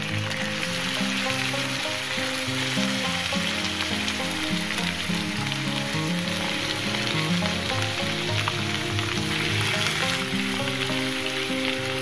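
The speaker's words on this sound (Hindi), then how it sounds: "गोश्त ऐड करने के बाद आप इसे अच्छी तरह से तकरीबन 10 मिनट के लिए इस तरह से भून लें।" Mutton pieces frying in oil in a karahi with ginger garlic paste and whole cumin, giving a steady, dense sizzle that stays loud and continuous throughout with no talking.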